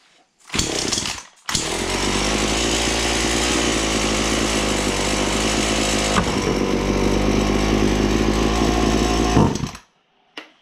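A chainsaw with a running fault idles steadily and loudly for about eight seconds, a brief blip of throttle midway, then cuts off into silence.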